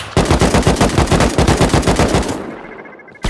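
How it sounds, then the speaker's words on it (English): A shotgun trap fires in a video game, letting off a rapid, loud string of about twenty evenly spaced blasts that fade into a ringing tail, with one more sharp shot at the very end. "Shotgun traps, watch out."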